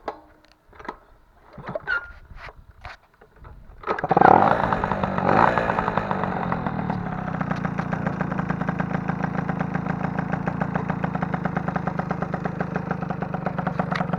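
Peugeot 103 RCX moped fitted with a Polini 50cc engine and a 15 SHA carburetor, a few starting clatters followed by the engine catching and settling into a loud, steady, rapid idle putter.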